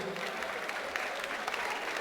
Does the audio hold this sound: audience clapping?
yes